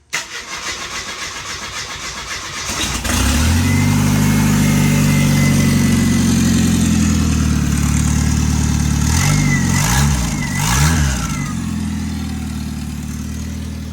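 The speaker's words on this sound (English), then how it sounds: "Well, it already makes cool turbo noises." An F7 engine with a turbo on a manifold made from old exhaust cranks and catches, then runs loud and steady, with a couple of quick revs and a faint turbo whistle rising over the rumble.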